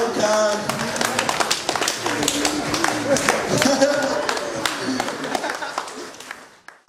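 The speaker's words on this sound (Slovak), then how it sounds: "Veľký potlesk pre dámu v plavkách" Applause for the winning contestant at a Slovak school ribbon ceremony party, scattered clapping of a crowd mixed with talking and some tapping noises, fairly loud and fading out at the end.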